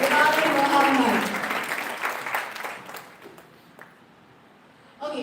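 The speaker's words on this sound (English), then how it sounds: "One more time, a big round of applause for Mr. Abdul Mohamad." Applause from an audience at an international conference follows on from a speaker's voice, the clapping fading gradually to scattered claps before voices resume.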